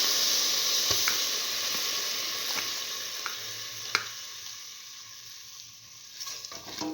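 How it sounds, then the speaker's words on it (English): Sweet mung beans sautéing and being stirred in a pan with salt and powder for a split mung bean and okra rice dish, a steady low sizzle with occasional soft clicks of a spoon against the pan. "thoroughly, keep on sauteing."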